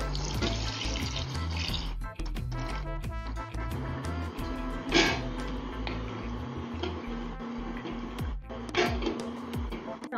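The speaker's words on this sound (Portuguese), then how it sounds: "Então vou acrescentar um pouquinho d'água para deixar ferver mais tempo." Water pours steadily into a cooking pot of Angolan chicken moamba with palm oil, a continuous rushing splash with small clicks and clatter, close and alone without talk.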